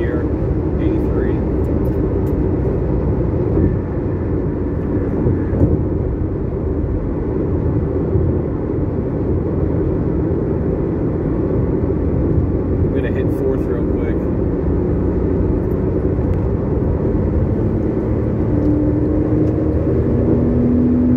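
Steady car engine cruising at 80 in fifth gear, a constant low drone with road and wind rumble throughout, loud and close from inside the vehicle, while someone talks briefly over it.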